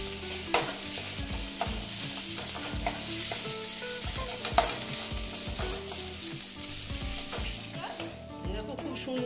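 Boiled potato mixture for a potato, pea and semolina breakfast dish is stirred in a pan, giving steady scraping and soft sizzling with repeated spoon knocks against the metal, close and continuous.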